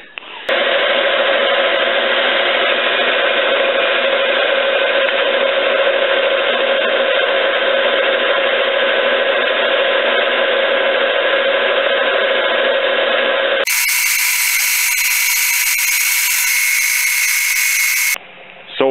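A machine drills metal with a steady high whine that runs continuously, then shifts to a brighter, harsher pitch near the end, loud and close.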